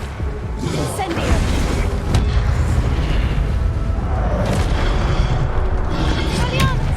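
Fire spell bursts in the game Hogwarts Legacy, a series of booming, crackling blasts with flaring whooshes over a steady rumbling bed of game effects, loud and close throughout.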